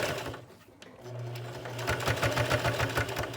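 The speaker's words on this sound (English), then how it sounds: "And you can stitch right along the edge." A sewing machine stitches along the edge of a fabric face mask. After a brief pause it starts a steady, close whirring hum with a fast rhythmic needle clatter that keeps running to the end.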